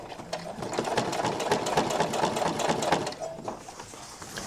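A sewing machine stitching up the hem of a pair of chino trousers, running steadily and close by at a fast, even rhythm for most of the stretch before easing off near the end.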